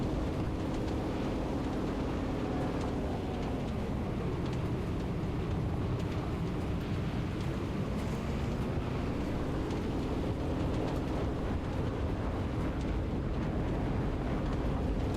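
A jet aircraft in the video game Enlisted, heard as a continuous loud roaring rumble with a slowly rising and falling whine, over steady wind-like noise and no talking.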